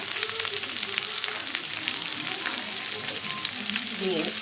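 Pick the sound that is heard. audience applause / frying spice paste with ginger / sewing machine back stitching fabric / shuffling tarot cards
frying spice paste with ginger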